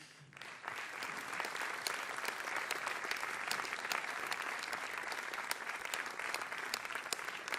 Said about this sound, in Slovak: A pán predseda sa blíži za neutíchajúceho potlesku.